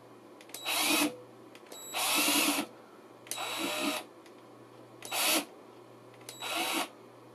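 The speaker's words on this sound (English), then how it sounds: "so I reverse the drill." Cordless power drill run in reverse while adjusting a Telewave TWPC-1505 band pass cavity, five short whirring bursts separated by pauses, close and fairly loud over a steady low hum.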